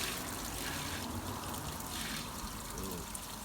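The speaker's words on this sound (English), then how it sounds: "we're going to dump that clear water off" Clear water poured off a container of settled clay, a steady trickling and splashing stream that runs continuously at close range with no voices.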